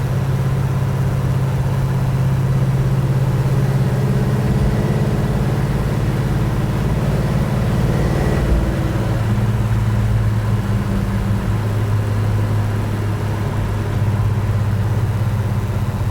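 A car with a 283 small-block Chevy engine drones steadily while driving, a loud low rumble that holds constant and then drops slightly in pitch partway through, with no talking.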